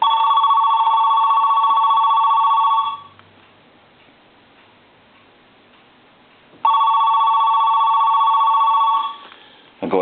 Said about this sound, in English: I'm going to go ahead and ring the phone real quick.